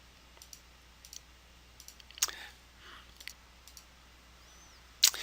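A few sparse computer mouse clicks, crisp and close, scattered across a quiet stretch with faint room hiss between them, the last one sharper and louder.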